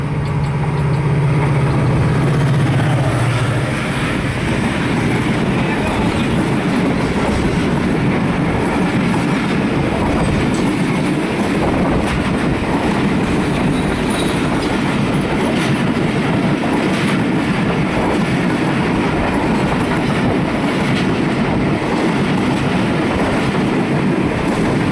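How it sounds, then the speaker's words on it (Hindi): The 18 Down Millat Express, hauled by an HGMU 30 locomotive on a single-line branch in Pakistan, passes close by as a loud, continuous rumble of rolling wagons with steady clickety-clack, a brief low engine tone at the start. "HGMU 30 के साथ आ रही है 18 डाउन मिलत एक्सप्रेस"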